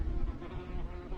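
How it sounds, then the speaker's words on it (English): A low, continuous buzzing of wasps close by on a farm in central Portugal, steady and droning throughout. "Yeah, I guess these are wasps, not bees."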